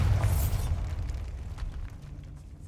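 A Bombarda blasting spell in Hogwarts Legacy goes off as a loud, close explosion with a deep boom, then a rumbling, crackling tail of debris that fades over a couple of seconds.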